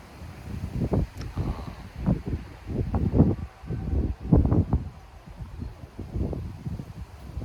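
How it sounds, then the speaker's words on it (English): Gusty outdoor wind buffeting the microphone in low, uneven rumbling bursts that rise and fall throughout. "It is a bit windy today, so I'm sorry if there's a lot of background noise"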